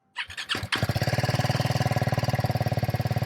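A brand new BMW motorcycle cranks briefly with a starter whine, then catches and settles into a steady, loud, rapidly pulsing idle close to the listener.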